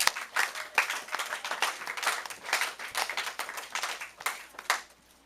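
A church congregation claps and applauds during a French-language sermon, dense irregular hand claps building steadily for about five seconds before tapering off, with no speech over them.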